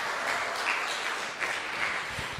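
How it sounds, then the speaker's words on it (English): A crowd at a radio station launch event applauds with dense, steady clapping that continues throughout, fairly loud. "please give a last round of applause for Lexi."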